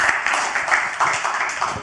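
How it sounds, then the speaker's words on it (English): An audience claps steadily for Jonathan as he comes up to join a personal-development talk on attracting women, a dense, continuous patter at moderate level with a few voices mixed in. "Give Jonathan a round of applause, guys."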